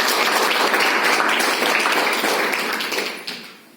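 A congregation applauds loudly and steadily through a church New Year service, dense clapping filling the room before tapering off near the end.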